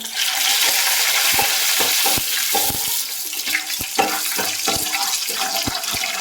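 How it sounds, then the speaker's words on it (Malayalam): Mustard seeds, roasted gram and urad dal fry in hot oil in a pan and are stirred, a loud steady sizzle with frequent sharp spoon scrapes and small pops, close and without talking. "പൊട്ടുകടല അര ടീസ്പൂൺ ഇട്ട് കൊടുത്തിട്ടുണ്ട് കൂടെ ഒരു അര ടീസ്പൂൺ ഉഴുന്ന് പരിപ്പ് കൂടി ചേർത്ത് കൊടുത്തിട്ടുണ്ട് ഇതൊന്ന് നമുക്ക് ഇളക്കി കൊടുക്കാം"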